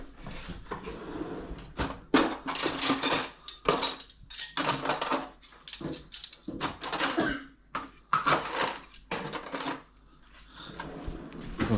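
Metal cutlery clinks and rattles as it is handled and dropped into a kitchen drawer, with several bursts of close, sharp jangling and brief pauses between.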